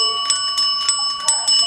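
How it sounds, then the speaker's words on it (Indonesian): A small bell above a row of doors chimes by itself in a horror scene, bright sustained ringing tones with several light metallic strikes repeating over a held ring. "tiba-tiba lonceng di atasnya berdenting dengan sendirinya"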